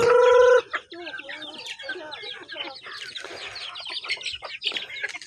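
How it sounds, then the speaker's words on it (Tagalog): Chickens clucking around a simple rural house with an ash-covered wood stove, a strong, steady call at the start giving way to a busy stretch of overlapping clucks and chirps, with voices talking nearby. "Daghang manok."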